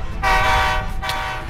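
A Minecraft train rumbles past with a steady tonal horn-like drone over low rolling noise, loud and close for just over a second.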